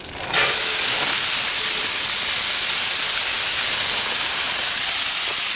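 Frozen peppers and onions hit a hot pan and burst into a loud, steady hiss of sizzling that holds evenly from the first instant to the end, close and with no talking over it.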